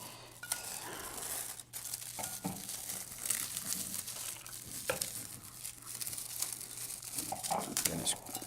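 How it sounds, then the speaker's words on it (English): Plastic or foil wrapping being torn and crumpled off wine bottles, one a 2006 Badia a Coltibuono, with crinkling rustles and short tearing bursts running steadily throughout at close range, no talking. "let's see if I can get the wrapping off either one of these in any kind of manner"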